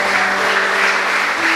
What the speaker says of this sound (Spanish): Démosle un aplauso al Señor Jesús.